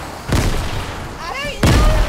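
Two heavy booms of grenade explosions in the Fortnite video game, a short gap between them, loud and close, with a voice talking over the game sound.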